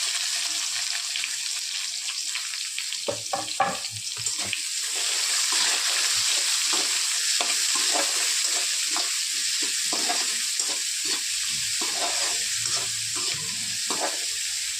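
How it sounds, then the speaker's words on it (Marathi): Chopped onion added to hot oil with browned garlic in a pan, a steady loud sizzle with scraping stir strokes, no voices, while a wheat-flour roll recipe is being made. "लसूण थोडंसं लाल झाले आता टाकतो कांदा"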